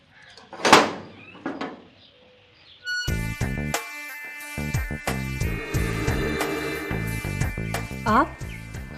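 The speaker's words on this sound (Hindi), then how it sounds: "जाओ खोलो दरवाजा।" A door opens in a home setting from a drama serial, heard as a short knock-like clatter near the start before music and sound effects swell and continue loudly.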